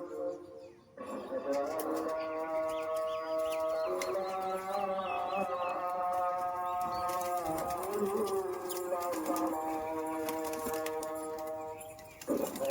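Pigeons kept in a loft for flying competitions coo and flutter close by, with sustained tonal calls over a background of talk and a buzzing, busy atmosphere.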